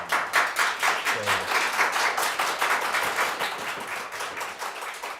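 Steady clapping from a group at a school board work session, a sustained round of many hands with a dense, even texture and no talk over it.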